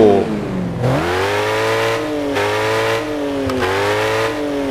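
Revving 2-litre inline engine in the Car Parking video game, a steady, fairly light-toned drone that swells and dips through several throttle blips, loud and alone.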